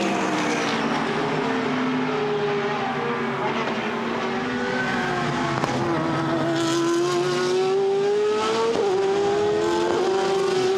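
A GT race car in Blancpain GT Sports Club qualifying at Misano howls past, its engine note rising and falling through gear changes as it exits the final corner, loud and sustained with a faint commentator voice underneath.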